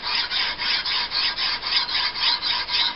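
The bevel of a Bowie knife blade is sharpened on a coarse sharpening surface, with about a dozen quick, even back-and-forth rasping strokes in a close, steady rhythm.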